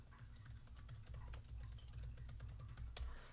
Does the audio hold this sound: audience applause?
no